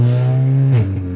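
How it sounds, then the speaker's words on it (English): Volkswagen Scirocco engine heard up close, holding a loud steady rev before it drops sharply and settles back toward a lower tone, with no voices over it. "Listen to this car, man."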